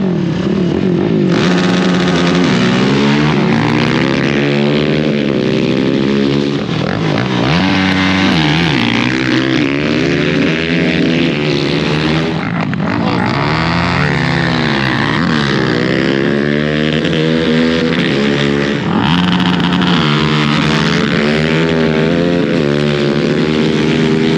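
Side-by-side UTV engines roar loud and continuous at a drag race, revs rising and falling in long sweeps as machines launch and pass, with no talk over the sustained engine noise.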